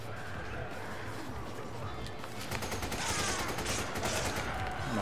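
Rapid gunfire in the Resident Evil 5 Mercenaries Reunion mode while playing as Excella: dense, continuous bursts of shots over busy game sound, growing louder and fuller halfway through.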